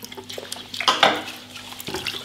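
Aquarium filter sponges being wrung and rinsed in water during shrimp tank maintenance, producing close splashing and dripping with a few squelchy sloshes and a brief clatter near the middle.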